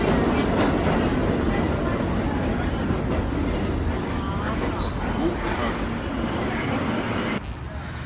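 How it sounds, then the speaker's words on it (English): A New York City subway train rumbles loudly and continuously, wheels clattering with a brief metallic squeal partway through; a few voices are faintly audible underneath. "We're in the subway here."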